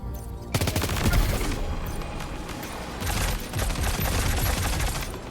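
Rapid gunfire from the video game Death Stranding 2, a loud, dense string of shots that runs almost without pause, with a few stronger bursts standing out toward the end.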